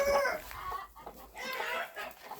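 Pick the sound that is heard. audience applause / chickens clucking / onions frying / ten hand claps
chickens clucking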